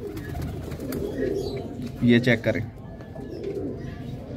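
Teddy pigeons coo softly in a short burst midway while someone talks nearby, their low throaty calls rising briefly above his voice.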